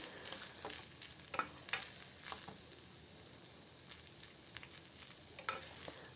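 Cowpea stir-fry with added salt stirred in a pan, a steady faint sizzle broken by scattered scraping clicks of the spoon, close and quiet with no voices.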